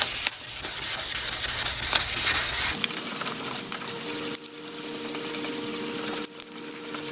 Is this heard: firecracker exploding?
no